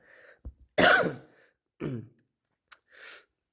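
A few throaty coughs from a person with a cold, plus throat-clearing bursts, close and abrupt, separated by short silences, with a soft breath between them.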